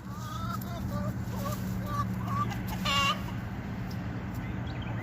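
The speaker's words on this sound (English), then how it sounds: "You're a rooster. You're supposed to crow, cock-a-doodle-doo, not balk like a chicken." Farm rooster clucking like a hen rather than crowing, short soft clucks repeated over a steady low hum and outdoor background, with a brief louder squawk near the end.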